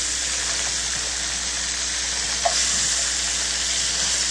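Sausages browning in a frying pan give off a steady, close sizzle, with a faint clink as they are turned partway through.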